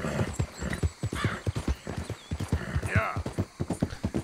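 Horse hooves clip-clopping in Red Dead Redemption 2, a steady, close, rhythmic run of hoofbeats with a couple of snorts or whinnies, while someone talks over them.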